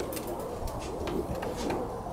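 Pigeons of dilute-carrying colour lines coo softly in a loft, making several low, rounded calls over steady background rustle and faint clicks, with no talk.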